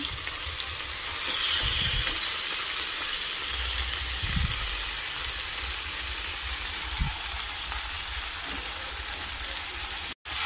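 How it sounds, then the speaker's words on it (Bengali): Small mourala fish fry in a wok (karai) with a steady sizzling hiss, broken by a few soft knocks of stirring, and no speech. "এবারে কড়াইয়ের মধ্যে পুরো এই মাছটাকেই একসাথে দিয়ে দিলাম।"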